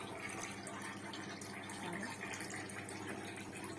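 Tap water runs steadily in a home kitchen while dishes are washed, a continuous soft gushing wash with faint clinks, fairly quiet and without speech.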